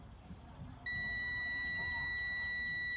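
A multimeter continuity beep while testing a gear position sensor on a Honda Foreman 500 ATV: one steady, high electronic tone starts abruptly and holds over a low background hum.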